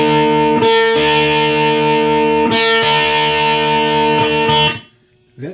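An electric guitar through a MoVALL Absolute Zero fuzz pedal set to its silicon mode plays thick, saturated sustained chords, re-struck a few times, then cut off abruptly near the end.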